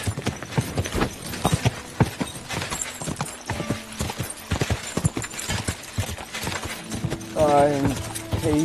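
Horse hooves clip-clop steadily and briskly in Kingdom Come: Deliverance 2, a fast, close run of hoofbeats that continues throughout, with a voice speaking briefly over it near the end.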